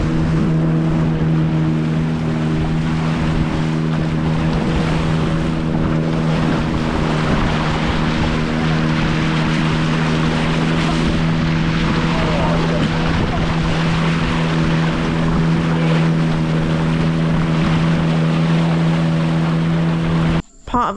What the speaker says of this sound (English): The thing I really wanted to do more than anything was this boat ride.